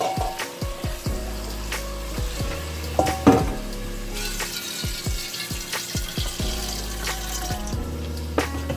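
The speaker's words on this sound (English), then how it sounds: "I'm going to add my water." Water splashes and trickles into a pot of garlic for Jamaican-style chicken fricassee amid kitchen clatter and a light sizzle, with a few sharp clinks of utensils.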